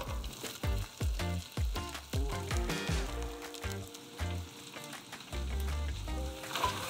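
Mushrooms go into a hot pan to sear, first a run of sharp spitting crackles and pops as they land, then a steady close sizzle, with no talking.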